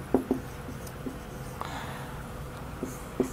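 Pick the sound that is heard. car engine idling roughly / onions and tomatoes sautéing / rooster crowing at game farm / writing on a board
writing on a board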